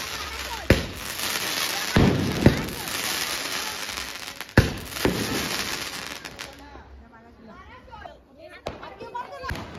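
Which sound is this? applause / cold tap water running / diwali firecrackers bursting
diwali firecrackers bursting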